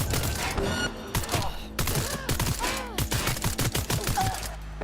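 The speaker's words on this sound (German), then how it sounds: "Hab Schüsse gehört." Rapid bursts of gunfire crack in quick succession, loud and close, with short pauses between volleys and a busy game-like backdrop, in the video game Cyberpunk 2077.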